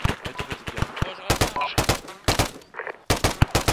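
Arma 3 co-op video game gunfire: rapid bursts of automatic weapon shots crack loudly and close, in several clusters separated by short pauses, with faint voice chatter in between.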